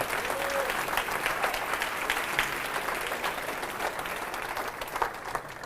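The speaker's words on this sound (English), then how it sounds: "let's give them a round of applause" Steady, even applause from a conference audience at a neighborhood best practices event, a dense wash of many hands clapping throughout, somewhat distant and moderately loud, with no speech over it.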